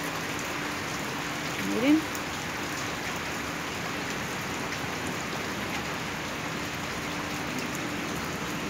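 Steady heavy rain pattering on a palm and flowering carnations, continuous and close, with a brief spoken word early on.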